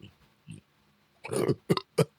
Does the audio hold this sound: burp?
yes